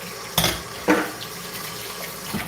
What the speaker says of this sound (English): Y'all know I have to rinse my fingers about 20 times.